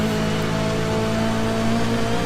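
A race car drives through wet conditions in Forza Motorsport 6 Apex, its engine holding a steady droning tone over a constant hiss of spray and rain, loud and continuous with no talking.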